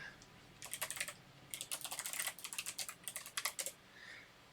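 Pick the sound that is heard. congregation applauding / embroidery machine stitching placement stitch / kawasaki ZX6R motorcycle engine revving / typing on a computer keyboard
typing on a computer keyboard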